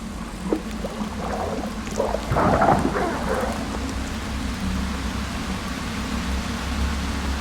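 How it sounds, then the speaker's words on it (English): Steady rain hiss with a rolling rumble of thunder swelling midway in the video game Darkwood, no voices, continuous throughout. "It's raining as I try to burn the tree."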